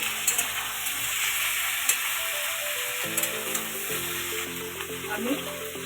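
Bitter gourd tipped into hot oil in a frying pan for shukto, a constant close sizzle and hiss with light stirring clatter over a faint background tone.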